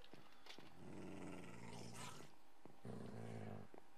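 A pet dog growls in the Minecraft video game, two low rumbling growls separated by a short pause, fairly close and moderately loud, with faint voice in the background.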